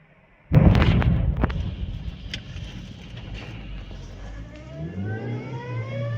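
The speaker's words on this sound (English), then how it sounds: "A fuel tanker exploded in Boxburg, unleashing a massive inferno that engulfed the area." A fuel tanker explodes in a sudden loud blast, followed by a long rumbling roar that slowly fades, with a wailing siren rising faintly near the end.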